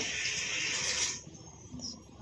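Water splashes in a steady, fairly loud stream into a cup of sugar for syrup, running for about a second before cutting off to quiet room tone.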